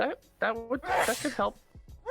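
A sharp sneeze bursts out in the middle of a podcast conversation, close to the mic, while the hosts keep talking around it.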